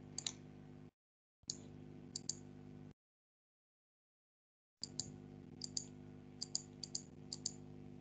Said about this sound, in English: I'm doing lots of clicking.